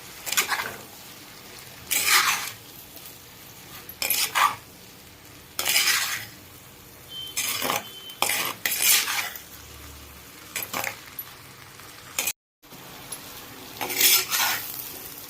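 A spoon scrapes and clatters against a pan in intermittent bursts of stirring fennel-spiced eggplant and drumstick thokku, with a faint sizzle underneath and no talking.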